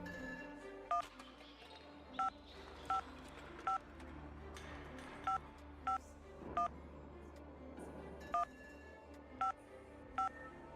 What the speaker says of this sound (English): He clicked on the phone. Click, click, click, click.